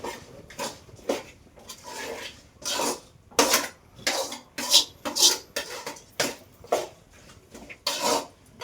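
Ingredients are stirred together in a cooking pot, with a quick series of loud, irregular metallic scrapes and clinks of a utensil against the pan, close by and without talking.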